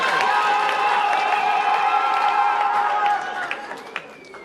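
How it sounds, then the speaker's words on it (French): Audience applause and clapping with cheering, a dense, loud wash from a crowd at a talk event that holds steady for about three seconds before thinning into scattered claps. "Applaudissez très fort. Tapez les mains pour l'applaudir."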